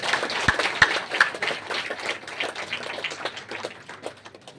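Audience clapping at a Hindi stage event honouring guests, a few sharp claps standing out at the start over a thin, uneven patter that fades slightly over several seconds.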